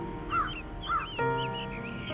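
Three harsh caws from a crow in an animated children's story, each call short and clear over a faint musical background, with a sustained tone entering midway.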